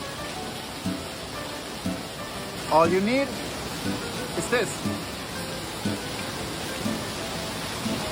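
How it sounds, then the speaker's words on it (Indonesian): Heavy rain pours steadily during a flood in Indonesia, a dense broadband hiss throughout, with someone speaking over it and brief voices in the middle. "when it's raining like this"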